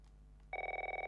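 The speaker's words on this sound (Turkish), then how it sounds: "Bak dek telefon çaldı" A telephone rings inside the game The Last of Us, a quiet electronic bell trilling in rapid pulses that start abruptly partway through and continue steadily, alone with no talk.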